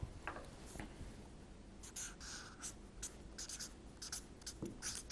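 Chalk or marker strokes on a classroom board as an English example sentence is written, a run of short scratchy bursts with brief pauses, fairly close and alone.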